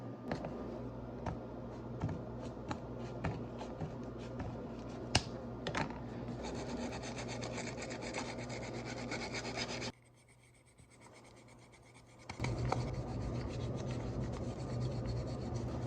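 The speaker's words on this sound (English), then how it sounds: "I've got these sandpaper finishing sheets here that I'm going to use to sand down the boiler" Sandpaper finishing sheets rub back and forth across the boiler of a Bachmann model locomotive in steady scratchy strokes, pausing briefly before the rasping resumes.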